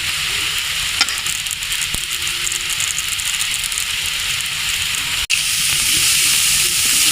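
Fish roe fries and sizzles in a pan as it is stirred, a loud continuous hiss and crackle up close with a couple of sharp utensil knocks against the pan.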